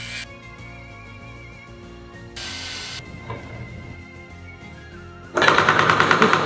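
Homemade guacamole machine's chopping mechanism running, a mechanical hum with shifting tones that ends in a loud, rapid rattling clatter, close and without voices.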